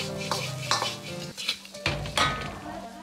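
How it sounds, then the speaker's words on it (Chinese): Diced chicken with seasonings stir-fried in a wok, a metal spatula scraping and clanking against the pan in quick strokes over a continuous sizzle. "继续翻炒均匀，包括调料。"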